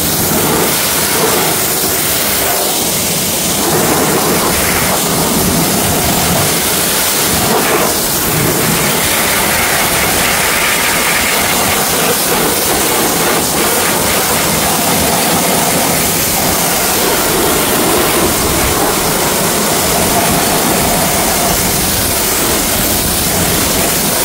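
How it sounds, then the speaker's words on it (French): Water sprays steadily onto car wheel rims during cleaning, a loud continuous hiss with no pauses. "Maintenant on rince."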